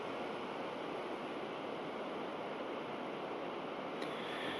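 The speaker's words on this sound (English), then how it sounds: "There's a nice waterfall over there." A waterfall in the Alaskan wilderness pours in a steady, dense rush of broadband noise, constant and fairly far off, with no voices over it.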